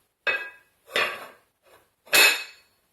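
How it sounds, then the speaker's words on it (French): A lid being set on a cooking pot of chestnuts, four separate metallic clanks and rattles of varying loudness, close by with quiet gaps between them and no speech. "On met le couvercle et puis on met ça à cuire"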